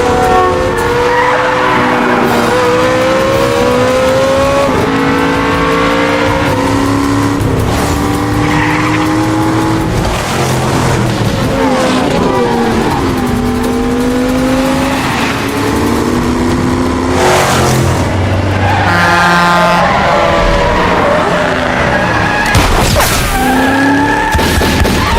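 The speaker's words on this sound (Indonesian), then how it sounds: "adegan kejar-kejaran mobil pun dimulai" A car chase in a film scene: engines rev and tires skid and squeal in repeated loud sweeps, continuous and close throughout.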